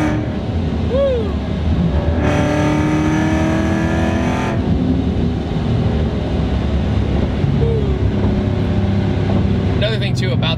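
A supercharged 550 hp C7 Corvette is driven hard through a turn, its engine roaring loudly and steadily with a sharp rising whine partway through, while voices and excited talk carry on over the noise.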